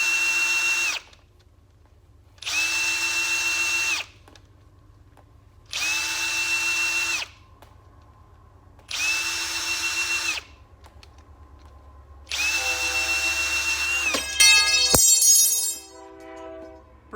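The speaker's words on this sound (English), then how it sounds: "Just using a regular little tubing cutter, cordless drill to spin it" A cordless drill spinning a tubing cutter whirs in five steady bursts of a few seconds each, separated by pauses, ending with a brief metallic clatter, close and loud.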